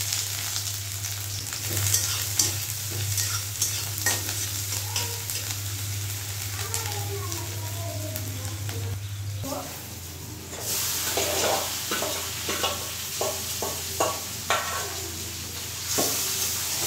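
Spiced meat frying in a pan with a steady sizzle, broken by stirring scrapes and clatters of the spoon, close and fairly loud, with a low hum running under the first half.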